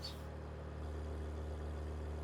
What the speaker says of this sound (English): Listen to the exhaust, to the idle.